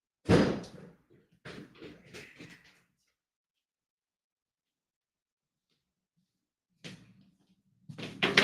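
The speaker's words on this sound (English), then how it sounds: "Let me go shut a door real quick" A door is shut indoors with a short thud, set among brief bursts of movement and knocks, followed by a long near-silent pause and a few more sharp impacts.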